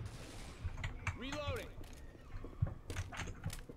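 Shotgun fire in Left 4 Dead 2, several short punchy blasts scattered through the stretch, mixed with game effects and players talking over them.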